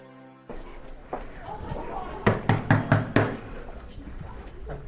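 Knocking on a classroom door at a Monrovia school, a quick series of about five sharp, close raps, preceded by faint room noise and softer movement sounds.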